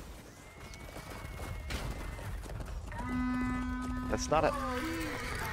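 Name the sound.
horse neighing in the video game Chivalry 2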